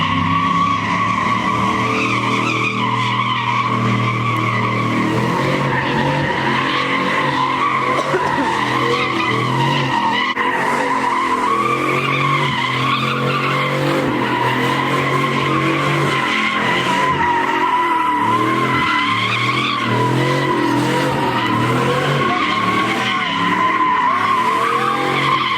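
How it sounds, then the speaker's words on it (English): Four-door truck doing a burnout at a large car meet, tires squealing and skidding continuously for a long stretch with a roaring engine underneath, loud and close. "We see a 4-door Tacuache truck burning out and getting wild as fuck."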